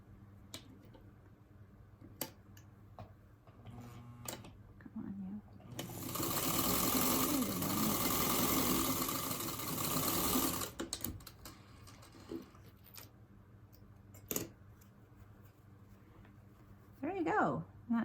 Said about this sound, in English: I'm going to sew on that diagonal line